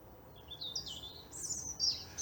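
A blackbird sings in winter woodland in Plymouth's Central Park, its high warbling phrases rising and falling through the whole stretch, fairly close but soft, over a low steady background hum.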